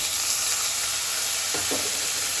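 Chopped tomato cooking in a pan with sizzling ginger and garlic, a loud continuous close sizzle with a brief stir partway through.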